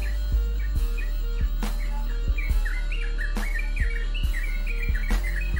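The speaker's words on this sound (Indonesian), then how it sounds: "burung terucukan akan tetap berkicau walaupun dipantau oleh pemiliknya teman-teman" A yellow-vented bulbul chirps and twitters repeatedly in short, lively phrases over a steady low hum, with a few sharp clicks.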